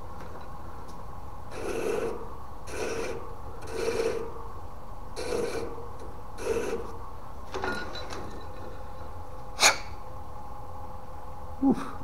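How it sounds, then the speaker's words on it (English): Short bursts of rasping sanding come close up as a bubinga pen tube is squared to length, about seven strokes in a steady rhythm followed by a couple of faint clicks. "It's sanded to the right length"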